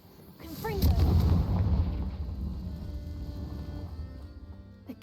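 A Confringo fire spell goes off in Hogwarts Legacy, a heavy booming blast that swells and then rumbles away over several seconds, with a short voice just before it.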